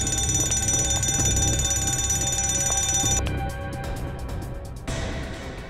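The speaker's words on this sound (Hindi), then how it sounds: "ये अलार्म क्यों बज रहा था?" A continuous electronic alarm rings loudly inside a haunted mansion, a steady high-pitched tone that cuts off abruptly partway through, leaving a quieter fading residue and background hum.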